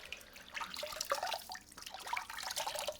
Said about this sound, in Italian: mi sciacquo il viso anche se mi sono fatto la doccia